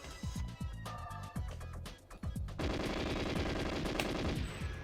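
Gunfire in the GoldenEye video game, rapid automatic bursts of sharp shots, then a denser, sustained stream of fire with a heavier background, loud and near.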